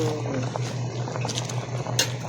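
Salmon soup broth boiling in a pot, a steady low bubbling simmer with scattered light pops and patter, close and continuous without speech.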